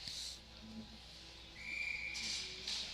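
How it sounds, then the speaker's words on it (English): Referee's whistle at a high school varsity ice hockey game in an arena, Ontario Bay Storm against Malone Huskies; a thin, sustained, moderately loud blast heard after the play stops, amid low rink ambience. "Another whistle."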